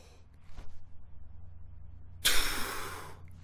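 A trumpet player drawing a breath, a quick sharp inhale rushing in after quiet, near and fairly loud.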